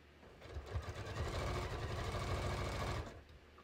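A sewing machine runs a triple zigzag stitch through the knit lining of a swim skort, a close, steady mechanical whirr lasting about two and a half seconds, with quieter starting and stopping at each end.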